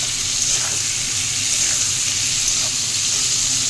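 Steady, close sizzling of potatoes frying in a hot pan, a continuous hiss with faint stirring scrapes, no voices.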